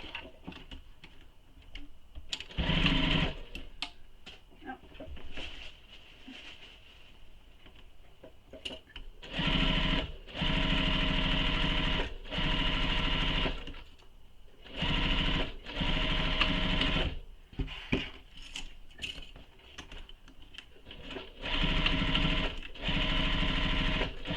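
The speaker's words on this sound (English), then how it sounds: "Then we're going to sew this bottom edge using the seam allowance given in the pattern." A sewing machine stitches the bottom edge of a fabric tote bag's side pocket in several loud bursts of steady whirring, each lasting a second or two, separated by brief quiet pauses.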